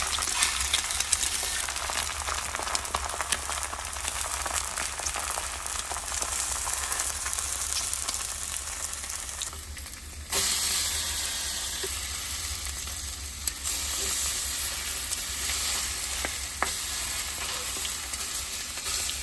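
Bacon sizzling on a Ninja griddle, a dense continuous crackle and hiss that holds steady throughout, with a brief dip midway and no talking.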